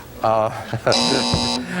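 Game show contestant buzzers sound in the studio, a short electronic buzz followed by a longer sustained buzzing tone, loud and close amid brief talk.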